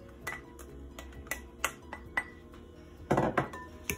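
Guacamole ingredients with red chili flakes, ground cumin and fresh cilantro are mixed in a bowl, giving a series of scattered clinks and scrapes of a utensil against the dish, with a busier cluster of knocks near the end.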